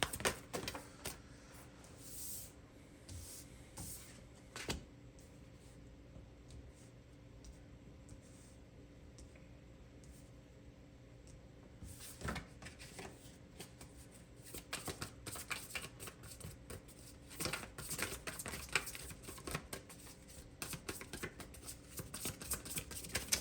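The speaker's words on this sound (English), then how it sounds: "bear with me as I shuffle" Tarot cards being shuffled by hand during a reading, bursts of quick riffling and soft slaps coming in irregular clusters with quiet gaps between them, close and fairly faint.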